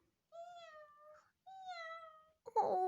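A voice imitates a cat, giving two drawn-out meows in a row followed by a brief louder squeal at the end, close and clear.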